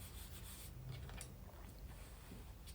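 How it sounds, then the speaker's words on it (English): A bone folder is rubbed firmly across the glued pages of an altered book, making soft, close, papery scraping strokes that repeat quietly without pause. "Using the bone folder again to make sure the pages are glued nice and snugly together."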